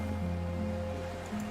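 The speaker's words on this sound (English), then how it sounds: "Water rushes below. Far down below." Steady rushing water far below in the game Disco Elysium, a continuous low roar with a faint tonal hum running through it, unbroken across the short stretch.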